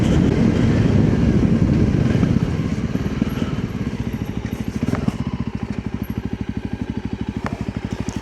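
Voge 300 Rally short-stroke motorcycle engine decelerating with short gearing, revs falling from a loud drone into a fast throbbing idle with small pops and crackles from the exhaust, close by.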